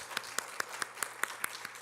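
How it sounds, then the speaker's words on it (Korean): Scattered claps from a church congregation welcoming a returning member during a Sunday service, a dozen or so sharp, evenly spaced strikes over a quiet, thin background, sounding like a few hands rather than a full crowd. "박수로 좀 환영하면 좋겠습니다"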